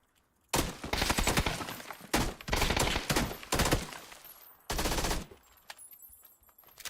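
Loud bursts of rapid video game gunfire in several clusters, separated by short pauses, with quieter shots trailing off near the end.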